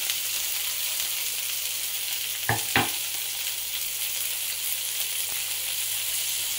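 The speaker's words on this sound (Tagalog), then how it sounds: "Igisa lang natin ng konti itong sitaw" Green beans (sitaw) sautéing in oil in a pan for adobong sitaw, a steady broadband sizzle that runs throughout, with a couple of brief stirring knocks midway.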